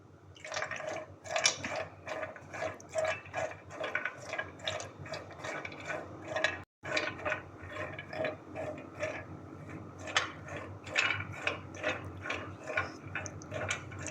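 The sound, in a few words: frying cashews, almonds and pistachios in pan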